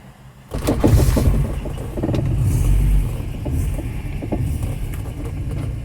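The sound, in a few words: Volvo 240 car engine starting and driving off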